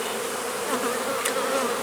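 Honeybees swarm around an open hive during an autumn inspection, a dense, steady buzz that fills the whole clip without a break, close and loud, with no voices over it.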